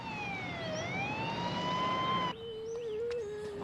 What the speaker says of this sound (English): A St. John's ambulance was immediately dispatched.